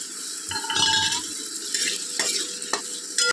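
Potatoes with chopped onion, panch phoron and ginger-garlic paste frying in a pan give a bright sizzle, broken by several scraping stirs and sharp utensil clinks against the pan, close up and without talk.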